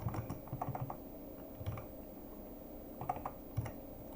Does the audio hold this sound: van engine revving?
no